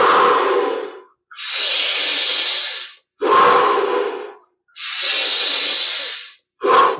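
Deep, forceful breaths during a Kriya Yoga breathing exercise, alternating long hissing inhales and exhales in a steady rhythm with short silent gaps, very close and loud.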